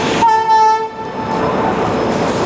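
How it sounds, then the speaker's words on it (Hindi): An express passenger train pulls away after a chain-pulling stop, a loud sustained horn blast ringing out up close before steady rumbling rail noise carries on alone. "और फाइनली चेन पुलिंग के बाद ट्रेन आखिरकार निकल चुकी है।"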